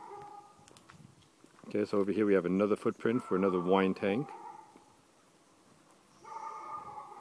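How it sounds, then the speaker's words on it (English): Dogs bark in the background at a remote winery, distant and partly masked while someone talks close by. "And the dogs are probably barking if you hear them in the background"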